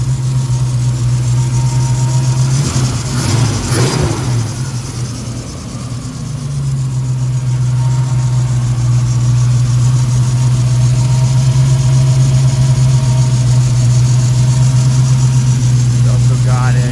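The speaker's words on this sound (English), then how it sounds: "Really nice, smooth running motor." A 1969 Ford Mustang convertible's 351 Windsor V8 idles smoothly and close up, with a steady low hum and a brief dip in level early on before settling back to an even, continuous drone.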